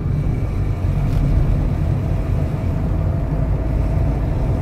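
A car engine runs smoothly in fourth gear while driving, a steady low drone with road rumble and no gear changes or revving.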